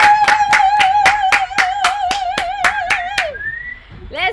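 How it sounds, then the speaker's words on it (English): Sharp, evenly spaced claps ring out about twelve times at a family fun night arts event, laid over a sustained sung or hummed tone that glides down before a few scattered final claps. "Give yourselves a big round of applause."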